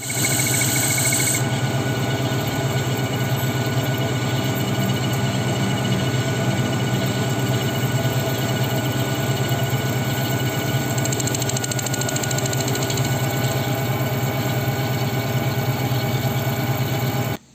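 A lathe turns the magneto of a Honda Karisma motorcycle, giving a steady, loud mechanical drone with a low hum throughout and a brief higher-pitched hiss near the start; no one speaks.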